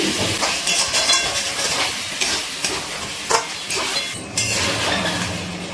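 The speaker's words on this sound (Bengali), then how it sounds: "এবারে খুব ভালো করে নাড়াচাড়া করে নিচ্ছি" Chicken masala mixed with sour yogurt being stirred in a pan, loud continuous sizzling with repeated scraping strokes of the spoon, close up and without speech.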